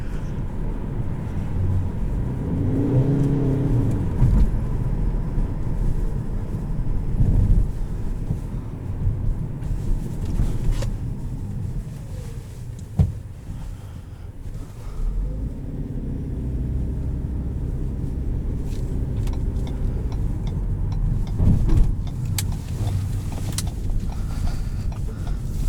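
Cabin of a 2017 Ford C-Max Energi plug-in hybrid car accelerating on electric torque, a steady low road and motor hum with wind noise and faint bumps throughout, no talking.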